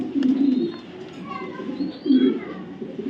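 A racing pigeon coos close by in two throaty bursts, at the start and again about two seconds in. Softer murmurs fill the gap between them.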